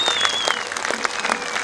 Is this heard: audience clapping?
yes